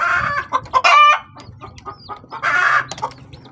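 Hens clucking and squawking nearby in short, excited bursts, with a louder drawn-out cackle partway through.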